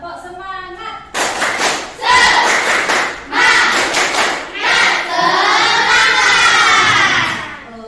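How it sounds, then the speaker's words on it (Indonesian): A class of schoolchildren performs a rhythmic spirit clap together, loud bursts of group clapping and chanting voices in a steady pattern, with an adult voice briefly heard at the start. "kita tepuk semangat dulu, oke?"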